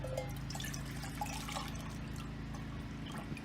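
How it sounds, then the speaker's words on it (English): Water poured from a canteen into a canteen cup set over a small campfire, a soft trickling pour with light splashes and drips over a low background hum. "Pour some water in here without dousing my fire."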